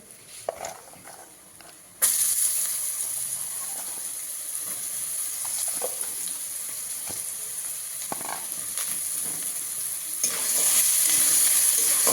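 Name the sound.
vegetables frying with lentil dumplings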